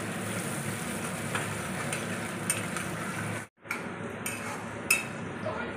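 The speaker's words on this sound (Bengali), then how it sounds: "ভালো করে নাড়াচাড়া করে ভেজে নেবো পেঁয়াজটাকে" Onions frying in oil in a pan while cooking a koi fish curry, giving a steady, close, dense sizzle with a few light utensil clinks. The sizzle drops out for a moment in the middle, then returns.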